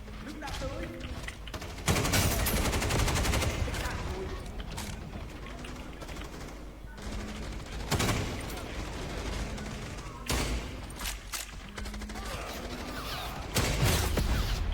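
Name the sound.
gunfire in the video game CrossFire (Quay Truy Kich)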